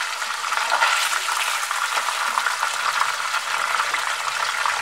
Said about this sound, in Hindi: बाकी के फिश पीसेस भी हम इसी तरह से फ्राई करके बाहर निकाल लेंगे।